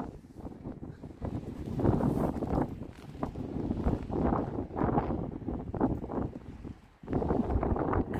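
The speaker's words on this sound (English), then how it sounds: "The wind is just blowing the gimbal all over the place." Strong gusts buffet a camera gimbal outdoors, giving a loud, steady rumbling roar of wind noise that swells and drops, briefly cuts out near the end, then returns, with no talk.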